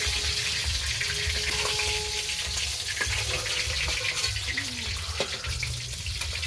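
Fish frying lightly in hot oil on a home kitchen stove, a dense steady sizzle close up with faint low rumble beneath and a few brief clinks, no one speaking.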